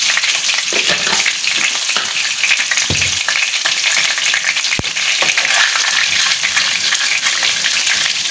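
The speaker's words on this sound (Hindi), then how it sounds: "जीरे को हम थोड़ा भून लेंगे इसके अंदर।" Cumin seeds fry in a pan for Gujarati-style masala bhindi, giving a steady, loud sizzle with occasional stirring scrapes and no talk throughout.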